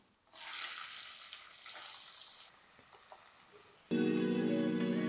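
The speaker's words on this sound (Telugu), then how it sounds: "నూనె కాగింది ఉల్లిపాయలు వేద్దాం" Sliced onions hit hot oil for an egg masala curry with a sudden loud sizzle that gradually settles, followed by a steady tonal hum.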